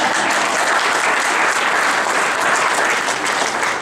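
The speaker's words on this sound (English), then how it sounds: "I think we should give Vicki applause just for all the exercise she did today." Audience applause at a chamber of commerce candidate forum: a dense, continuous burst of many hands clapping at once, loud and even from start to finish with no voices over it.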